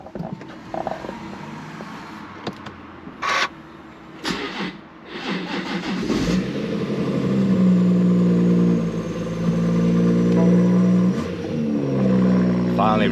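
BMW M140 engine firing up after a loose ECU plug was reconnected, cranking and catching, then settling into a steady, close, loud idle with a brief rev.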